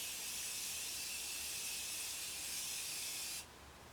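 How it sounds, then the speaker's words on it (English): A fine aerosol mist of makeup setting spray hisses steadily for about three seconds, then cuts off abruptly, leaving quiet room tone. "And I'm just going to spray."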